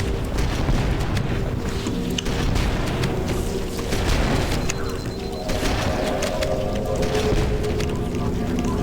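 Frag grenade explosions in Halo: Combat Evolved, a dense booming blast layered over continuous loud game noise and rumble, with a voice heard briefly.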